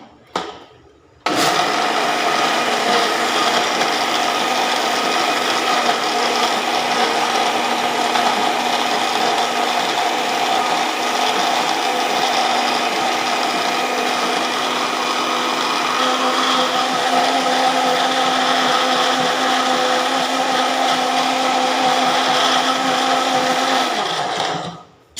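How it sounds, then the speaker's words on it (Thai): An electric blender starts abruptly and runs at a steady, loud, high-pitched whir for about 23 seconds, with a slight change in tone partway through before it winds down and stops. "ให้เครื่องปั่นมันทำงานซื่อๆไปเลย"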